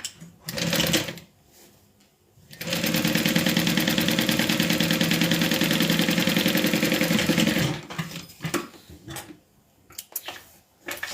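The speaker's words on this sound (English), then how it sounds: "let's sew our pocket closed" A sewing machine runs in one loud, close, sustained burst of about five seconds, stitching a crossbody bag pocket closed, with handling sounds before and after.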